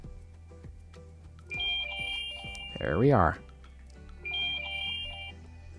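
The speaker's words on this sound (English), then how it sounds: "find my phone, and you will hear my phone ring in the back" A smartphone rings from a Garmin Instinct 2 find-my-phone command, a repeating two-tone chime in the background with a brief spoken remark midway.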